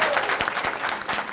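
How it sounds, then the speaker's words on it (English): A full room claps loudly and continuously for the winners at a racial justice essay and creative arts contest ceremony, with no voices rising above the applause. "can we give another round of applause for all of our winners who are here today"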